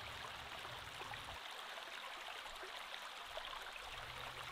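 A river flows steadily at a riverside campsite in Tanay, Rizal, giving a continuous broadband rush of moving water, fairly faint and even throughout with no voices.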